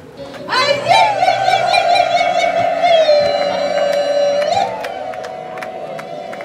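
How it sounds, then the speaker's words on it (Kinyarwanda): A long, sustained high trilling ululation rises over a cheering crowd, loud and continuous for several seconds before tapering off. "ababyeyi muzi kuvuza impundu muhaguruke"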